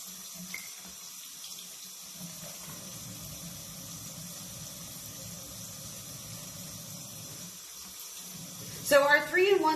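Tap water runs steadily into a sink while makeup brushes are washed with a cleansing bar, a continuous splashing flow throughout, with someone talking briefly near the end.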